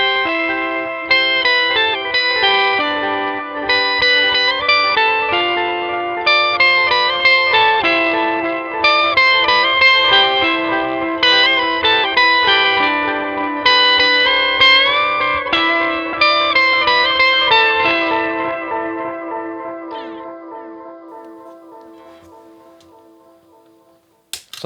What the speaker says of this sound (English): let's take the prime distortion out and just hear what the effects themselves are just bringing